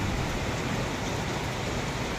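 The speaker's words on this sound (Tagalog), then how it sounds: "Mapatak na naman ang ulan sa bubong ng bahay." Steady rain patters densely on a house roof, a constant close hiss with no breaks and no voices.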